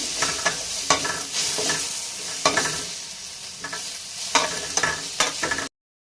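Chopped tomatoes cook in a pan as a spoon stirs and scrapes them in repeated strokes over a continuous sizzle, close and fairly loud, then the sound cuts off abruptly.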